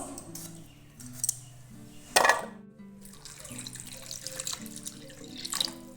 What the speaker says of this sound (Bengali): ভালো করে জল দিয়ে ধুয়ে নেবো